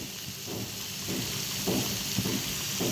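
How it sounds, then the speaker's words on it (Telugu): Raw banana and potato pieces fry in a pan of oil with a steady, close sizzle and hiss, with soft stirring scrapes and bubbling swells coming and going. "ఇదే టైంలో బాగా వేగిపోయండి, మరీ మాడిపోక్కర్లేదు, మరీ మాడిపోతే కూడా బాగోవు"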